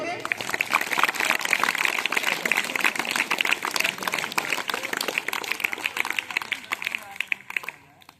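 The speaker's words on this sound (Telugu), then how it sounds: "గట్టిగా ఒకసారి మీరు క్లాప్స్ కొట్టండి" Students in a high school hall clap hard together during a human rights awareness programme, a sustained, dense patter of many hands that fades near the end, with some voices mixed in.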